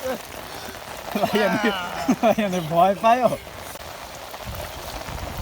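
Steady patter of rain on a surface fills the background while a person speaks over it for a couple of seconds.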